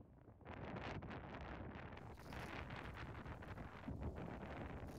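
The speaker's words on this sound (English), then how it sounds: "I was waiting for the wind gust to kind of die down." Continuous wind gusts buffeting the microphone on a college disc golf course, a loud rough rumble that surges slightly midway, with no talking.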